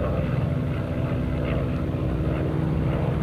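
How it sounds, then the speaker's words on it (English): A Grumman Hellcat, a World War II fighter plane, roars past at an air show, a steady heavy piston-engine drone with a low rumble, continuous and fairly loud throughout. "great pass you see by the Hellcat"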